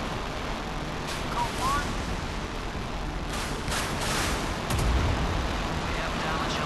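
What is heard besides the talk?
warship deck gun firing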